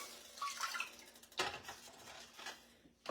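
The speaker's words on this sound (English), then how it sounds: "I'm going to add 3/4 cup of water" Three quarters of a cup of water is poured into a heated pan on a burner to start a sugar syrup, making a brief splashing rush with watery drips and light clinks of the pan.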